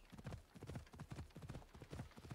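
Horse hooves clip-clopping in the video game Assassin's Creed Odyssey, a brisk, steady rhythmic trot of dull thuds, continuous and moderately loud.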